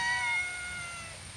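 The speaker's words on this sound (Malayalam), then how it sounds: "ഇതിവിടെ അടുത്തുള്ള പൂച്ചകളാട്ടോ." Two small cats that ran up for chicken give a brief, faint meow, a thin high cry that fades quickly over quiet background.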